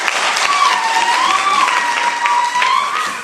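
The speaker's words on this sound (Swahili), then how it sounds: "Naomba mjipigie makofi kwanza." An audience of young people applauds steadily and loudly in a hall, a dense continuous wash of clapping with a sustained whistle or tone running through it.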